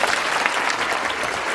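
An audience of young people applauds with dense, steady clapping that fills the whole short stretch, loud and close, with no voices over it.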